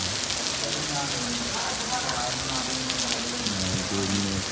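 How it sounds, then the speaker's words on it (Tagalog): Heavy rain pours steadily and loudly at Monte Maria in Batangas, a dense continuous hiss with people talking underneath. "Grabe ang lakas ng ulan."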